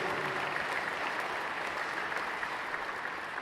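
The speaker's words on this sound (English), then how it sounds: "honoring all of you with a round of applause" An audience at the American Liver Foundation gala applauds, a dense, steady wash of clapping from many hands filling the room throughout without pause.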